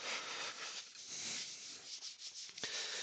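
Grit abrasive rubs steadily against a spinning walnut bowl on a woodturning lathe, producing a continuous close, hissing scrape that fluctuates slightly in intensity.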